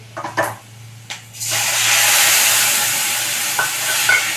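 A paste of dried red chili, ginger and cumin hits hot oil in a pan after fried peas, bursting into a loud, sustained hiss after a few knocks and scrapes.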